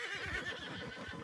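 A horse in the Red Dead Redemption 2 video game gives a loud, quivering whinny lasting about a second, close up with no talk over it.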